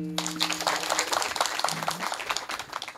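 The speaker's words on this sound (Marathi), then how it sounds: "सर्वांनी वाजवा ना टाळी." Audience at a Marathi kirtan clapping together in a dense, steady burst that fills the hall, with a brief tonal hum beneath at the start.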